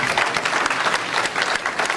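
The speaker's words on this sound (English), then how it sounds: "A round of applause for our candidates." Audience applauding debate candidates at a high school equity debate event, a dense, steady wash of many hands clapping close by for the full two seconds with no talk over it.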